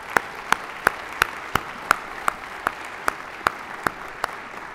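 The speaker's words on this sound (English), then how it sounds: "let's give them a round of applause" Audience applause for young men who preached at a graduation-week preaching event, heard as a sparse run of about a dozen evenly spaced, distinct claps over a quiet room.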